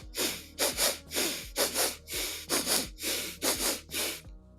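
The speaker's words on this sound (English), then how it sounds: "this is a quick double inhale followed by a release exhale" Bellows breathing performed alone and close: a steady series of forceful, breathy bursts that fall into a rhythm of quick double inhales, each pair followed by a release exhale, repeating about four times.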